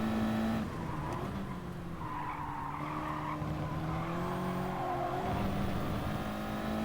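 Race cars in the GT Sport video game race around the track, their engine notes rising and falling in changing pitch under steady tire skids and squeals, with no talk.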